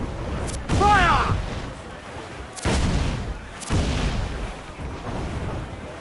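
Pirate ship cannons in Assassin's Creed Black Flag boom in a spaced series of heavy blasts, each followed by a rumbling decay, with a shouted voice over the first shot.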